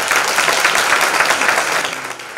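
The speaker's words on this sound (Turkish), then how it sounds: "Sizler için lütfen Ormancılar Derneği'ne bir alkış rica ediyorum" A room full of people applauding at a Turkish Foresters Association choir event, dense steady clapping that begins to thin out toward the end.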